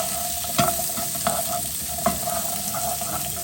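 Carrots and star anise sizzling in a hot pan for a red rice pilaf, a continuous close fry with a few brief stirring clinks and scrapes.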